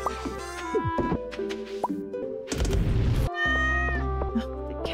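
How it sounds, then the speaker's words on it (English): A cat meows in the Stardew Valley video game, its thin cries rising over looping game music and soft sound effects, with a few short plopping blips scattered through the clip. "the cat just meows so pathetically"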